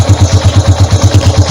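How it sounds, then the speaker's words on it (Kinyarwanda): A motorcycle engine just kick-started, now running with a loud, close, rapid even thumping pulse of about eight beats per second. "Ni ukwatsa moto."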